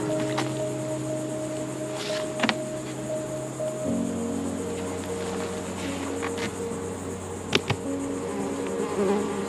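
Honey bees buzz around a hive during a queen installation, a steady close hum with a dip in pitch partway through and a few soft knocks and rustles, with no talk.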